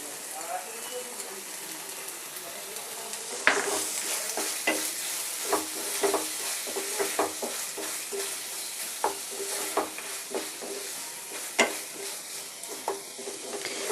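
Onions and tomato puree frying in a pan for Punjabi-style chicken gravy, a steady sizzle broken by repeated scraping stir strokes at an irregular rhythm, close by and moderately loud.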